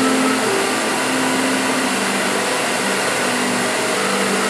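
A rifle cartridge case spins in a socket during annealing under a loud, steady roaring hiss like a torch flame, continuous and close throughout.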